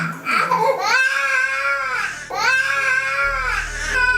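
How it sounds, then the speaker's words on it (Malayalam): A baby cries in two long, loud, wavering wails, separated by a brief catch of breath, with a low steady hum underneath. "കുഞ്ഞ് കരഞ്ഞുകൊണ്ടിരിക്കുന്നു"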